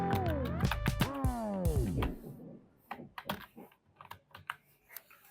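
Rapid keystrokes on a computer keyboard as an ID card number and password are entered, a quick irregular clatter of close clicks, with a tonal chime-like sound fading out at the start.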